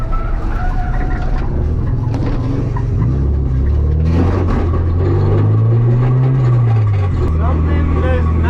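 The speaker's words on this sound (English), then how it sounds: "the car starts making some crazy noises" A Nissan 240SX running off a race track, its engine droning and lurching with odd whining, grinding mechanical noises, loud and close, while a person talks over it.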